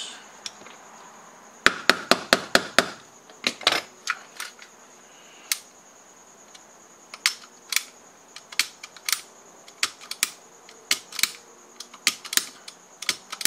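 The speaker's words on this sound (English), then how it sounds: "The hammer is dropping, so we're good there." The hammer of a Taran Tactical Hi-Capa pistol snaps shut again and again during assembly, sharp close metallic clicks in quick bursts and then spaced out, with a faint steady hum behind them.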